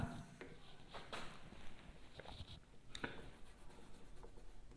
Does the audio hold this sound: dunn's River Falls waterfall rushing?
no